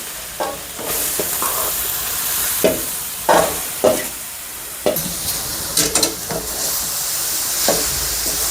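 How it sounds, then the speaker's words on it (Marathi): Carrots for gajar halwa roast in homemade buffalo-milk ghee, with steady close sizzling broken by repeated scraping stirs of a spoon against the pan. "चांगलं तुपावर मस्त असं भाजून घेऊया"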